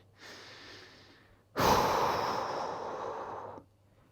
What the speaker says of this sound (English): Breathing through.